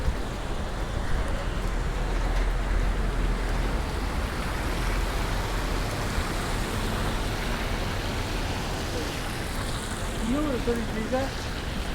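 Steady rain falls on a city street in Skid Row, Los Angeles, during Tropical Storm Hilary, a continuous broadband patter with passing traffic and faint voices nearby.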